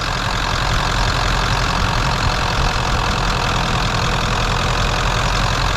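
A 1997 Ford F250 4X4 pickup with a Powerstroke turbo diesel engine idles close by, a loud, steady rumbling clatter that holds an even rhythm throughout with no talking.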